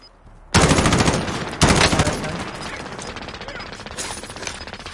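Automatic gunfire in the video game Call of Duty Warzone, two sudden loud bursts of rapid shots followed by sustained fainter firing and echoing decay, close and dominant.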